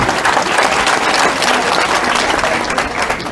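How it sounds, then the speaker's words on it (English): Loud round of applause from a crowd at a high school gathering in Kampala, Uganda, dense continuous clapping filling the whole stretch. "Can we give them a round of applause? A loud one."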